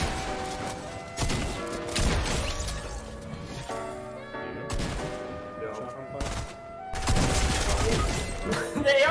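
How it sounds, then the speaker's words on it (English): Gunfire in Fortnite Chapter 2, with repeated bursts and volleys of shots at varying distance, some sharp and loud, others fainter, running throughout. "I hear your shots."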